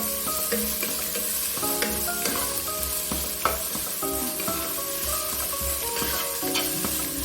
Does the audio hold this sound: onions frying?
yes